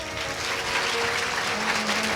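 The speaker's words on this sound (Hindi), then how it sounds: "इसलिए एक बार आप सभी श्रोताओं के लिए जोरदार तालियां बजा लो भाई।" Listeners at a Bhagavat Katha religious discourse in Maharashtra clap together in a brief, steady burst of applause, with a faint sustained tone underneath.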